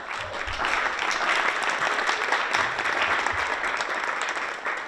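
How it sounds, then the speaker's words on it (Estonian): Steady, dense applause from a large audience, sustained clapping at an even loudness throughout. "Tehke palun endale ka üks suur aplaus."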